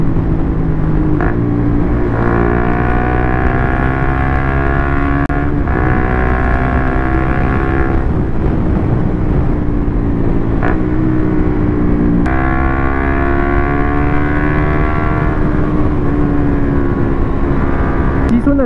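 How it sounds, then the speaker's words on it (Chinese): A Suzuki GSX-R150 motorcycle with a Yoshimura GP-Magnum exhaust is revved repeatedly. The engine climbs to high rpm in several long rising pulls, each dropping back with a sharp crack and idle burble, loud and close throughout. "你可能就是转速稍微拉高一点，然后灌一下油门"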